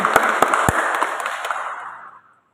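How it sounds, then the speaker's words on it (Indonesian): A church youth group applauds together in a room, a burst of brisk clapping with a few sharp louder claps near the start that thins and stops after about two seconds, leaving silence. "kita kasih aplaus, tepuk tangan untuk kelompok 1"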